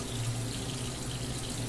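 Glass canning jars for Cambuci pepper preserves settle into a pot of water, heard as a steady, close rush of running water with no pauses and no talking.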